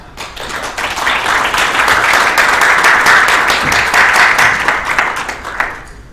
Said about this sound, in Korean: 그러면 전 장군님의 발표를 큰 박수로 청해 주겠습니다.